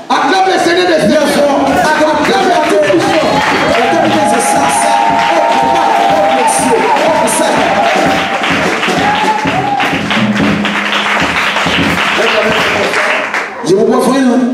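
A church congregation cheers and acclaims, loud sustained crowd shouting and clapping over music, with a preacher's voice calling out above the roar.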